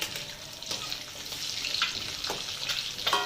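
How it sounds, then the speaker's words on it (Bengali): Eggs fry in a wok with steady broadband sizzling and crackle, close and continuous, with a few brief spits of hissing on top and no voices. "সব ডিমগুলোকে আমি একবারে দিয়ে দিয়েছি কড়াইতে, দিয়ে এবারে ভেজে নেবো।"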